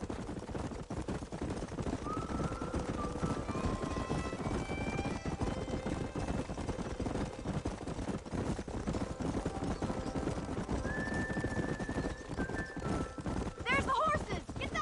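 Horses gallop in the video game Red Dead Redemption, their steady clip-clop running beneath a busy game soundtrack with tonal cues and occasional voices.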